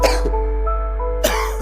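Two harsh, heavy coughs, one at the start and another about a second later, with soft sustained music tones between them.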